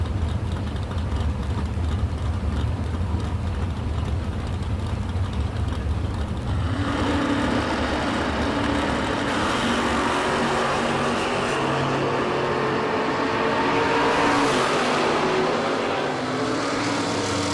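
Drag racing cars launching side by side at the Northeast Sportsman Nationals, one a Race Tech Roadster, a steady low engine drone swelling into a loud broadband roar partway through and holding strong to the end, with no talk.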